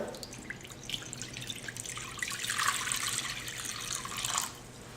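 Cold water runs steadily from a tap into a pot, a splashing rush that swells in the middle and then cuts off.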